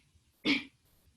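A single short, muffled cough with the mouth closed, close by, surrounded by near silence.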